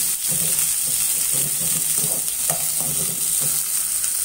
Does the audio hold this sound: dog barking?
no